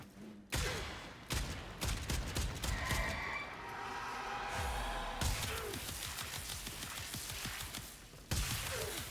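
Rapid weapon fire in the sci-fi shooter Warframe, a corrosive and heat build, with dense bursts of shots running through most of the stretch, loud and close, broken by short pauses.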